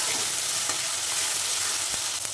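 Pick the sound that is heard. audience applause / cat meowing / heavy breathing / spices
spices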